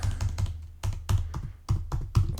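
Someone types on a German computer keyboard, giving a close, uneven run of sharp key taps with short pauses and no voices.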